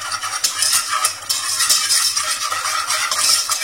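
A spoon scraping and stirring flour into melted butter in a pan on the stove, a steady run of soft scrapes and light rattles close up, with no talking.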